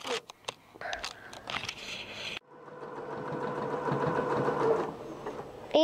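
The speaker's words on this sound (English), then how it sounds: "Sewing Daddy's costume." A sewing machine stitches a costume in a steady, continuous mechanical whir that runs for several seconds. Before it starts there are brief rustles and handling clicks, and soft talk is heard at the edges.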